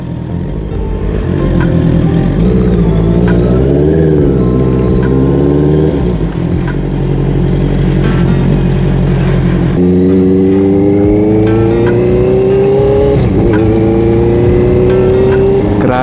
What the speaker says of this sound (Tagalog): Grabe na ang traffic ngayon mga ERP.